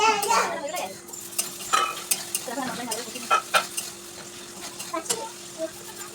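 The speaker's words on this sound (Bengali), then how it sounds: "ভালো করে মশলাটা কষে অল্প আছে ঢাকা দিয়ে" Spice masala for chicken curry is stir-fried in a pan: a soft sizzle under repeated scraping and clinking strokes of a spoon against the metal, with a faint steady hum in the background.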